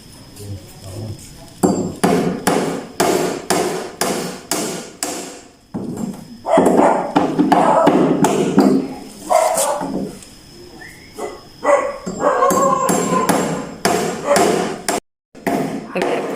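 Nails hammered as relatives and family build a house together: loud, close, rapid runs of sharp blows with short pauses, plus a dog barking and voices in the background.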